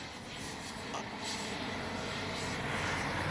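A Freewing Yak 130 70mm electric ducted-fan RC jet flying, a steady broadband rushing whine that holds level throughout and sounds fairly distant, with no talk.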